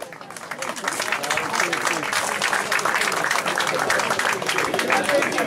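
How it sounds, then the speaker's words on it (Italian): Sustained applause from an audience at a football awards ceremony, loud and steady with dense overlapping claps, swelling slightly at the start and holding for several seconds. "Un applauso per Giuseppe"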